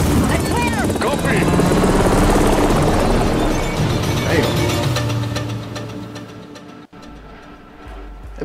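A helicopter in Call of Duty MW3 thrums loudly with steady rotor and engine noise that gradually fades, while players talk over it.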